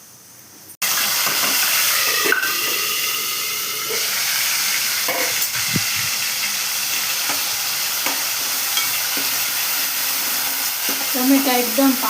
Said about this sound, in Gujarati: હવે વઘાર કરી નાખીએ